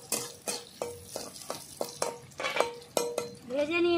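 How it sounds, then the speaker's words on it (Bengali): Garlic and chopped onion frying in a pan, a steady sizzle broken by repeated stirring scrapes roughly every half second, close by, ending in a brief ringing clink of utensil on pan. "ভালো করে ভেজে নেবো একটু।"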